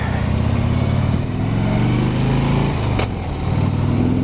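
A motorcycle engine revs and pulls away as the rider sets off, a close, loud, throbbing mid-pitched drone with rising and falling throttle and a brief dip near the end.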